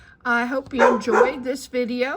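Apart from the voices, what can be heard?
dog barking in the background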